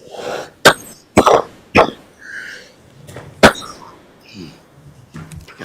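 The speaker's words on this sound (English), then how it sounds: "I coughed up a lung" Several sharp, loud coughs in quick bursts, a few separated by short pauses, with some throat clearing and quiet breathing between them.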